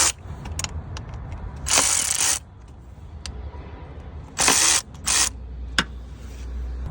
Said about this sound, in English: I'm just going to loosen these up a little bit.